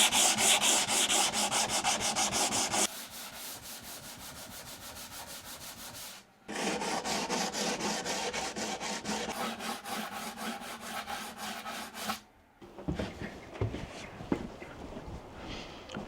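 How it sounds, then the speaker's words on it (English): Hand sanding a small wooden veneered table produces steady, close, rhythmic abrasive scrubbing strokes, pausing briefly twice before resuming, with no talking. "I'm just going to hand sand it."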